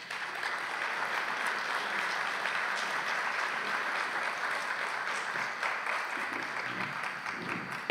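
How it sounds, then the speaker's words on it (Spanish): An audience at a round-table discussion gives the panelists and moderator a steady round of applause, an even wash of clapping at moderate volume that continues throughout with no talk over it. "Para todos ellos les pedimos un fuerte aplauso."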